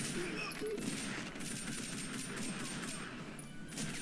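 Rapid automatic gunfire from the video game TimeSplitters: Future Perfect, a continuous rattling burst heard throughout with no clear pauses.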